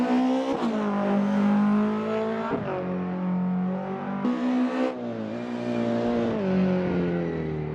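A rear-wheel drive BMW rally car charges along a stage in the Eastern European Rally Championship at Rally Porec, its engine revving hard and close with abrupt gear changes and rising pitch between shifts.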